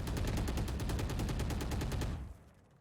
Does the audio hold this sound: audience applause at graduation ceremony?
no